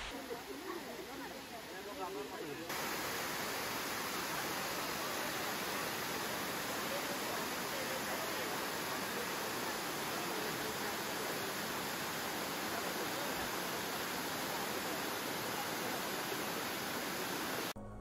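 A waterfall near Shillong in Meghalaya roars as a continuous, even rush of falling water, building to a steady level after the first few seconds and holding without a break.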